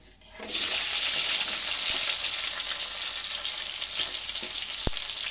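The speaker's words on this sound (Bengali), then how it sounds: "এবার গ্যাসের আঁচটাকে কমিয়ে আমি টমেটোটা দিয়ে দিচ্ছি।" Tomato hitting hot oil with tempered spices on a gas stove at low flame, bursting into a loud, steady sizzle after a brief quiet start, with a faint clink of a utensil near the end.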